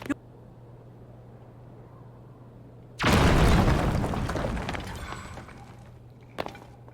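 A bomb blows up in The Legend of Zelda: Tears of the Kingdom during the Gerudo assault, a single loud booming blast that rumbles away over a few seconds, with a short sharp pop near the end.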